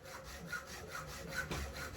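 A hacksaw cuts through clean yellow brass in quiet, even back-and-forth strokes, about two per second, close by and with no talking.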